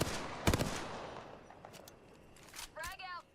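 Gunfire in an online shooter game, with a couple of sharp shots near the start and a few more later, followed by a quick metallic mechanical rattle. Moderately loud, with no speech over it.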